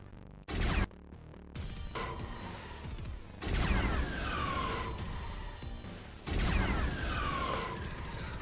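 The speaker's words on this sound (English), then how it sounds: "One hits next to you, exploding." Proton torpedo blasts from a space combat game, three heavy booming bursts with swooping whooshes, loud and close, each rumbling out before the next.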